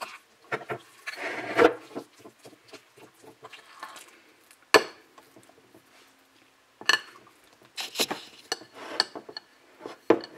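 A spoon stirs microwaved food in a bowl, giving irregular scraping and clinking bursts close up with short pauses between them.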